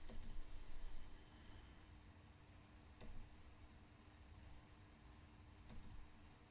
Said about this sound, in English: here it's just a lot of quick clicking